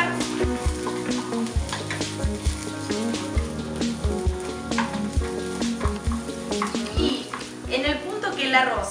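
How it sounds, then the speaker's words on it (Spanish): Rice tipped into a pan of softened, translucent onion and stirred, with steady sizzling and frying and scraping stir strokes, all over background music. "Cuando la cebolla esté bien tierna, que esté transparente, voy a incorporar el arroz. Lo vamos a mezclar."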